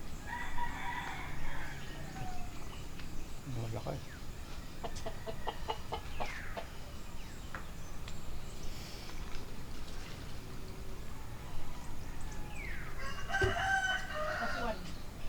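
A rooster crows at a distance across an outdoor rural coconut farm in Tanay, Rizal, faint over steady background noise, while someone speaks briefly.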